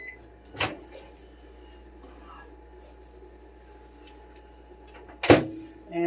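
A sharp click and clunk of a microwave door opening to take out heated water, then a second louder thump a few seconds later, with quiet kitchen background between.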